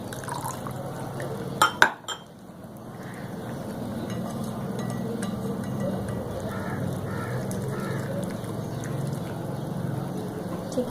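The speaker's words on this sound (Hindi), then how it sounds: "इसमें मैं थोड़ा सा पानी और शामिल करूँगी।" Water poured into a coating paste for crispy potato wedges, a steady liquid fill running for several seconds after a couple of short clinks, close and moderately loud.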